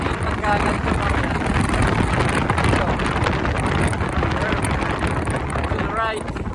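Riding a Honda ADV 350 scooter on a curving mountain road produces loud, constant wind roar buffeting the microphone, a dense rushing noise that holds steady throughout.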